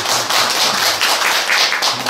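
Audience clapping in a small traditional Korean music theater, brief and fairly loud, with close, uneven hand claps filling the moment before a performance.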